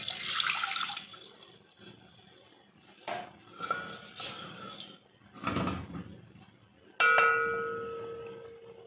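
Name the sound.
pouring a glass of water into the pan for seviyan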